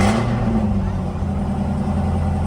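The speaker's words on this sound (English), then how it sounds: "I think he loves just hearing the roar of the engine" A car engine roars steadily at close range, a dense continuous rumble holding at constant loudness throughout.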